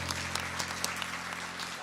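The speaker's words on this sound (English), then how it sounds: "give a hands of applause for Kate, ladies and gentlemen" Audience applause for a helper named Kate at a Christmas benefit magic show, a steady patter of clapping heard at a moderate distance and fairly soft throughout.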